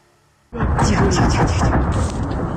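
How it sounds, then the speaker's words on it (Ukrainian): After a quiet moment, a sudden loud missile strike blast erupts into a heavy, sustained roaring rumble, like a nearby explosion that keeps thundering. "Чуєте ці характерні вибухи?"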